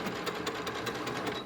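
A sewing machine stitching through layers of vinyl for a bag, a steady fast needle chatter running loud and close throughout.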